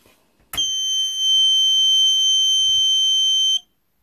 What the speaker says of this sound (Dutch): Dan hoor je wel een schelle pieptoon van het alarm die laat weten dat hij het doet.